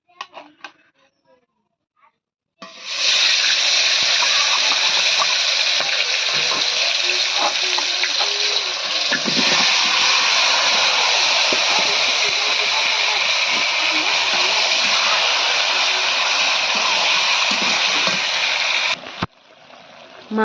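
Garlic-marinated meat drops into hot oil after a few quiet seconds, setting off a loud, steady sizzle that holds for about sixteen seconds before cutting off abruptly.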